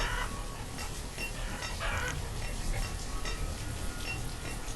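Chickens clucking in the village-building game Banished, a dense, continuous layer of game ambience with faint clucks mixed into a steady wash of sound, no talk.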